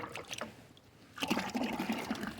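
Water is poured to fill drinking containers for mustang horses on a homestead: a soft trickle at first, then a fuller, splashing pour close by.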